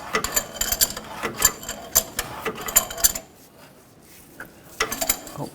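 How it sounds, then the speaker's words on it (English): A wrench tightening a harmonic balancer installer on a 2007-2014 Chevrolet Silverado 2500 HD 6.0L V8: a run of sharp metallic ratcheting clicks in bursts, close and fairly loud, a pause of near quiet, then a few more clicks. "grab whatever wrench fits on your harmonic balancer installer and tighten it up"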